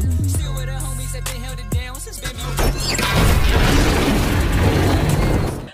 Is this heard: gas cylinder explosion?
yes